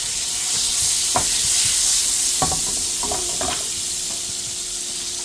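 Oil and butter sizzle in a flat tava pan, a steady bright hiss broken by a few soft clinks and scrapes of a utensil.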